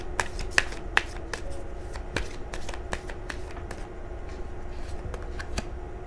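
Oracle cards being shuffled by hand in a tarot reading, a close, quiet run of crisp irregular riffles and slaps over a soft background hum, with no speech.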